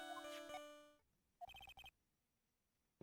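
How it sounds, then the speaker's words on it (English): A mobile phone plays a melodic MIDI-style ringtone, a bright tune of short electronic notes that breaks off, then returns as a quick run of clipped repeated beeps, faint and alone. "What kind of ringtone is that?"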